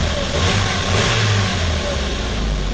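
A car engine revs hard and steadily near the microphone, a loud continuous mid and low drone with no pauses, and no voices are heard.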